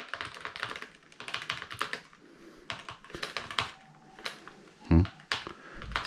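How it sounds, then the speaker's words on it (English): Quick, uneven bursts of key clicks come from typing on a retro laptop keyboard, one of an old IBM, Compaq or Toshiba machine. The taps are close and fairly quiet, with a louder thump near the end. "It's hard typing at this angle."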